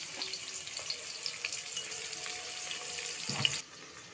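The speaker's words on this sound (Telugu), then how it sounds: "ఆనియన్స్ బాగా ఎర్రగా వేగనిద్దాము ఫ్రైడ్ ఆన్సి ఆనియన్స్ లాగా" Onions fry in a pan for biryani, giving a steady soft sizzling hiss with faint crackles close by, dropping off abruptly near the end.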